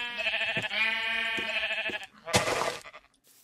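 Sheep in the Minecraft video game bleat twice in quick succession, clear and close, followed by a short burst of another game sound effect, with no speech.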